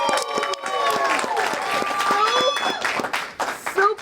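Live podcast audience cheering and clapping in a small room, a dense steady wash of applause with whoops and shouted voices over it throughout.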